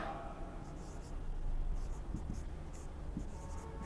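Chalk scratches across a classroom board as a Hindi grammar lesson is written out, a soft continuous scraping with a few sharper taps, fairly quiet against room noise.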